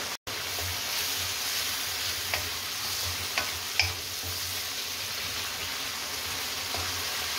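Tomatoes and garam masala for a vegetable and pineapple dhansak sizzle steadily in a pan, a constant close frying hiss broken by a few light stirring ticks.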